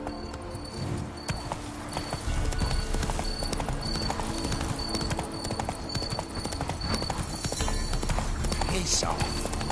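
Horse hooves clip-clop at a trot in The Witcher on PS5, a steady rhythmic beat up close with game ambience and a brief snort.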